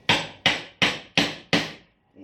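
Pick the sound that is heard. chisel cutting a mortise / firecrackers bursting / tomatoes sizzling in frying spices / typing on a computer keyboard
chisel cutting a mortise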